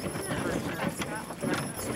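Belgian draft horses' hooves clip-clop in a steady, close rhythm on a Jackson Hole outing, running beneath continuous conversation among several people.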